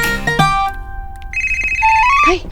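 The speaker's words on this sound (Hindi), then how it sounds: "लगता है नेहा को फोन आया" A telephone ringtone plays loudly and close by, a bright electronic melody of short rising and stepping tones over about two and a half seconds, with no one speaking.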